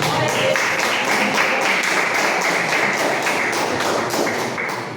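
Church congregation clapping in a steady, regular rhythm, loud and continuous, fading slightly at the end.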